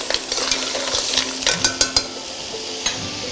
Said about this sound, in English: then in with your mussels. Give them a bit of a stir through the onions and the bacon